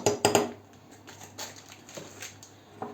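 A spoon stirs sour cream mixed with ammonia in a bowl: a few sharp clinks at the start, then softer scraping strokes and light taps against the bowl.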